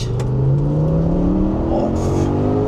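An Audi RS6 C6 with its twin-turbo V10 pulls hard under acceleration, a loud, continuous engine roar climbing steadily in pitch from inside the car, with no talking.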